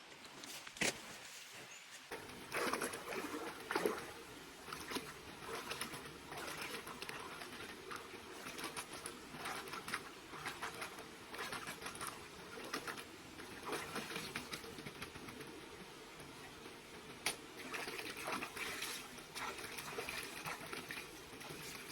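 Water of a mountain stream flowing and splashing steadily close by, continuous and fairly busy throughout with occasional sharper splashes.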